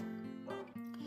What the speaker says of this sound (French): Désolée si vous entendez un chien aboyer.